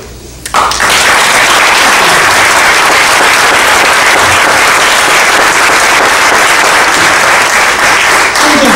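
Loud, sustained applause from an audience at a school district board of education meeting, steady dense clapping filling the room for several seconds after a brief quiet start.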